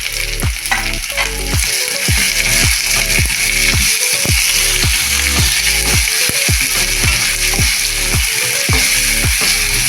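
Chopped potatoes sizzle loudly in hot oil in a pan, prepared for an egg garlic pizza, with a steady frying hiss and a regular rhythm of spatula scrapes and stirring strokes throughout.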